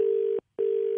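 Steady telephone tone after a call is hung up, two loud identical beeps about 0.4 seconds long separated by a short silence, close and clean with no voices.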